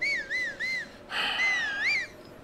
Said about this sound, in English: How many times will Adam whistle?